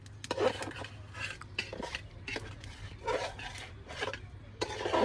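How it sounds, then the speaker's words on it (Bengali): Rice and potato being stirred and fried with dal in a pot, scraping strokes of a spoon against the metal coming in irregular bursts over a low steady hum, close and fairly quiet. "চাল আর আলুটা খুব ভালোভাবে কষে নেবো ডালের মধ্যে।"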